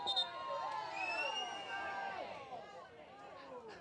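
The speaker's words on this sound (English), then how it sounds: "The crowd is sharing the confusion that I have right now." Spectators at a men's amateur soccer match between Lansing Common FC and Goshen City FC shout and murmur together, a faint overlapping babble of raised voices heard from a distance.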